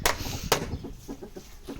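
Chickens and a rooster on a farm cluck in quick, close calls, with a sharp squawk standing out near the start of the brief burst.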